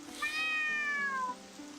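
A cat meows in the horror RPG Ghost School, one clear, close, drawn-out meow with a falling tail, heard alone over soft rain-like background noise.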